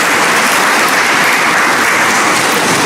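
Loud, dense applause from an audience at a Nation of Islam broadcast event, a steady roar of many hands clapping together with no talk.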